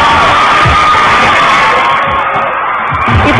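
Fans at a TV studio show scream and cheer as a singer steps onto the stage, a dense, loud and continuous wall of crowd shrieks and whoops with no pauses.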